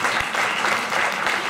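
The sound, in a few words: audience applause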